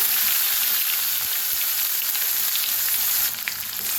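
Cumin, asafoetida, green chili and garlic fry in hot oil with a loud, steady, close sizzle and crackle that drops slightly near the end, with no talking.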